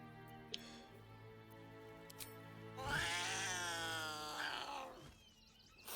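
Cat meowing in the video game Baldur's Gate 3, a long, loud drawn-out yowl in the middle over steady game ambience, with faint brief sounds before it.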